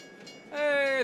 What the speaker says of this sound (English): Hey, it's my buddy the train.